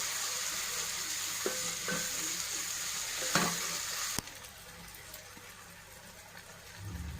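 Raw prawns cooking with gongura leaves and salt in a pan give off a soft, continuous sizzle, with faint stirring scrapes and a sharp clink partway through.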